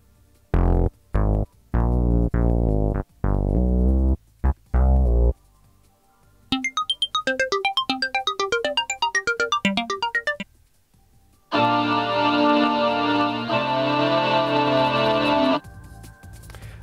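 Demo patches on a Korg microKORG digital synthesizer play in turn: punchy staccato stabs, then a sparkling rapid arpeggio, then a sustained bright pad, each separated by brief silence.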